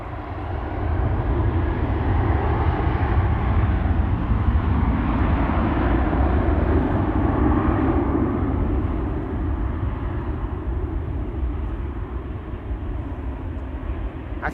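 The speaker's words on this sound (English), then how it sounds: "It also is looking like the flight to Bangalore has begun moving. KLM flight 879. That's a 787-10 Dreamliner." KLM Boeing 787-10 Dreamliner jet moving at Amsterdam Schiphol Airport, giving a loud, continuous low engine rumble and rushing hum that holds steady throughout, with no voices.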